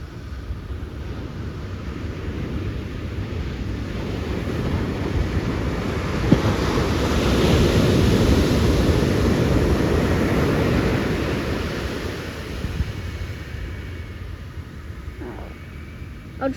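Big ocean waves breaking at Aliso Beach, a continuous roaring wash of surf that swells louder in the middle as a set rolls in, then eases, with wind buffeting the microphone.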